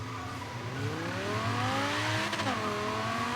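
Launch of a race car in the Forza Horizon 3 video game: the engine revs loud and steady, rising in pitch through the gears, with a brief shift blip near the end and no talking.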